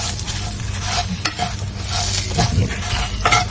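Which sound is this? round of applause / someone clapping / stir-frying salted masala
stir-frying salted masala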